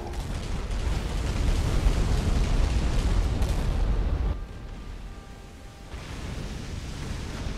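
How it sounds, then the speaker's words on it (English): Torpedo explosions in the naval war game Battlestations Midway roar as a loud, sustained rumbling blast for about four seconds, then drop to a quieter low background rumble. "You can fire torpedoes."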